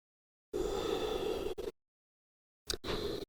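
Two audible breaths during a yoga flow, a long close exhale lasting about a second followed after a pause by a shorter breath, soft and breathy against silence.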